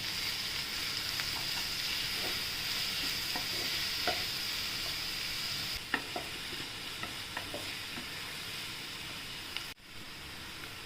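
Green chili and garlic paste sautés with onion in a pan for a palak, pea and potato bhaji, giving a steady close sizzle broken by scattered clicks and scrapes of stirring, with no talk.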